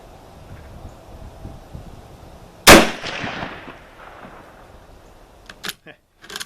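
A single sharp, loud rifle shot from a Kar98k Mauser Sporter firing a Hornady 170-grain round-nose handload with IMR powder, cracking out and decaying over about a second, followed by a few faint clicks and handling sounds.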